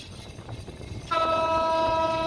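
A train on the Madhumati Express route out of Kamalapur station sounds its horn, a loud, sustained multi-tone blast that starts midway over a low rumble of rail noise.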